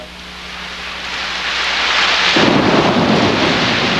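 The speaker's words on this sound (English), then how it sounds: "It's raining." Steady rain falls with a deep rumble of thunder building and rolling in partway through, the downpour growing louder and fuller, with no voices present.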